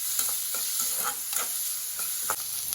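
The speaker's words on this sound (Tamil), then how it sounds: "எண்ணெய் காய்ச்சிட்டு வெங்காயம், பச்சை மிளகா, கருவேப்பிலை போட்டு தாளிச்சுப்போம்." Onions, green chillies and curry leaves sautéing in hot oil give a steady close sizzle, broken by a few scraping stirs of a spoon in the pan.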